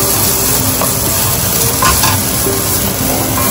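Potatoes and soybean chunks fry in a pan with chilli paste or Schezwan sauce, giving a loud, continuous sizzle with stirring scrapes throughout and no talk.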